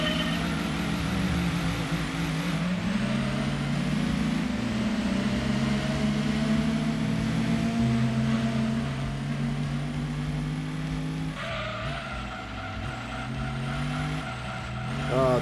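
A muscle car engine in Gran Turismo 2 screams at high revs in first gear, a steady loud drone with harmonic whine that dips and climbs again at gear changes, continuous throughout.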